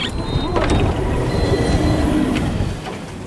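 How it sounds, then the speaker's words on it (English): HTM tram number 4 pulls in at a stop in The Hague, its wheels rumbling on the rails with brief high squeals and clanks as it arrives close by, loud and steady before easing off near the end. "Here's tram number 4."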